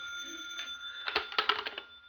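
An old-fashioned telephone bell rings in an office at New Scotland Yard, a short rapid burst of metallic trilling that rises and stops within a second or two, heard alone and fairly close.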